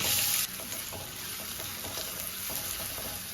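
Mustard seeds, chilli, curry leaves and onion fry in oil, giving a steady close sizzle and crackle, with a louder hiss at the very start that settles into a constant frying noise.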